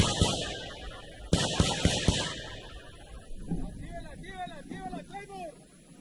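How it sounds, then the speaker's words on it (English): Gunfire and incoming artillery during combat: sharp loud bangs crack in a quick cluster, then a quieter stretch follows, where a voice talks over fainter distant rumbling. "we hear gunfire going on all around them. We can also hear some artillery coming in."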